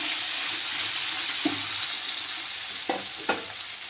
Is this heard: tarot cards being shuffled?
no